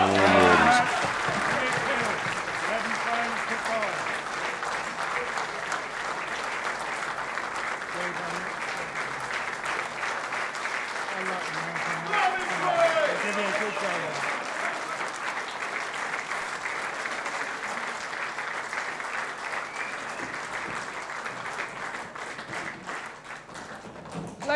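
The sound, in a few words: crowd applause at pool world championship final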